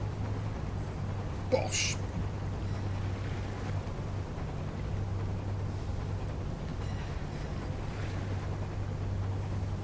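Boat engine rumble and sloshing water as a vessel takes throttle in the sailing game Seafarer, a steady low drone with wash and wind noise under a brief spoken word.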